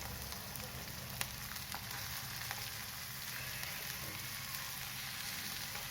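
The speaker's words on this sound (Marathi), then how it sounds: "थोडेसे तेल टाकून कांदा परतून घेते." Onion sautéing in a little oil in a pan for samosa filling, a faint, even, continuous sizzle with a few soft clicks, no voices.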